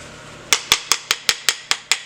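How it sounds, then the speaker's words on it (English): A metal spoon raps the sides of a bath bomb mold nine or ten times after pressing on an arbor press. The taps are sharp, bright and evenly spaced, close and alone, with no talk. "And I'm just tapping the sides"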